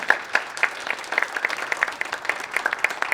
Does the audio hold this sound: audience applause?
yes